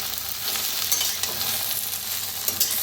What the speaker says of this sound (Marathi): किती छान भाजायला लागल्या